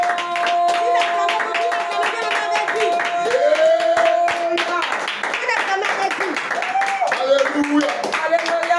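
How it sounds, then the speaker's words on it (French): A worship congregation claps hands in a steady rhythmic beat, dense and close, under singing voices and a sustained keyboard or organ. "Et on va acclamer pour l'adoration."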